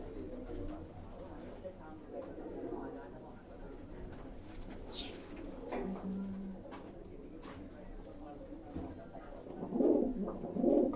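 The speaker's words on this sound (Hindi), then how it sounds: "काफी लंबी हाइट का कबूतर है।" A tall domestic pigeon of a prized breed coos softly in a coop, low murmuring calls recurring between stretches of nearby talk and handling noise.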